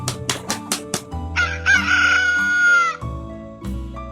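A rooster crows one long, loud cock-a-doodle-doo close by, preceded by a rapid series of clucks and backed by sustained musical tones.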